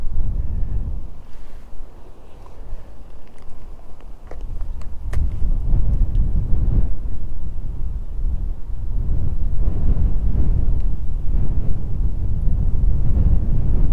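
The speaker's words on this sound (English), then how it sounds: "This wind is vicious." Strong, gusty wind buffets the microphone beside a trout stream, a loud low rumble that swells and surges throughout, with no voices.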